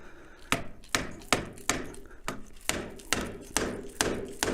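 A bar end mirror is hammered onto motorcycle handlebars fitted with Renthal bars and grips, about ten sharp, loud blows landing at a steady, slightly uneven pace, each with a short ringing decay.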